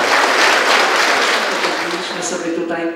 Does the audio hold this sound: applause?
yes